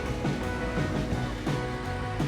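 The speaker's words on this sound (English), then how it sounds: "And yes, the Rhine River flows very, very rapidly" The Rhine River rushes rapidly near the Swiss-German border, a continuous loud churning of fast water with surging, wave-like swells.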